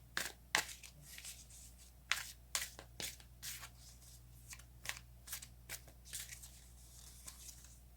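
Tarot cards are shuffled and drawn in a series of crisp, riffling bursts and soft slaps, close and fairly quiet, with irregular pauses between handfuls and no talking.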